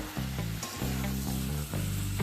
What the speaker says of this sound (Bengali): মাংসটাকে প্রায় 2 মিনিটের মতো সময় নিয়ে পেঁয়াজের সাথে একটু ভাজা ভাজা করে নেব